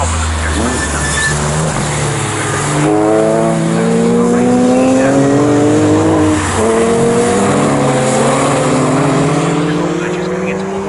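Porsche Boxster race cars compete in a club race at Snetterton circuit, their engines rising and falling through gear changes as they pass close and loud, with a commentator talking over the track noise.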